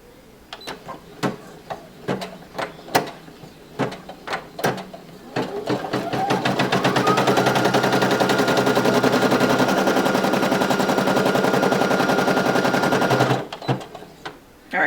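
A Brother PE800 embroidery machine stitches a glitter design onto a onesie. A few separate clacking needle strikes come first, then a long run of rapid, even stitching, then a stop followed by a few more isolated clicks.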